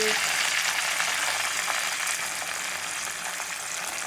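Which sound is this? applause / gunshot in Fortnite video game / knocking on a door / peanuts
peanuts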